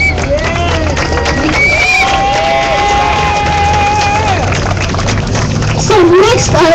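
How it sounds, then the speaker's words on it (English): A crowd at a police brutality march roars with cheers, whoops and applause, a loud, continuous mass of voices with shouts rising and falling above it. "give them the biggest round of applause that you've given all day for anybody"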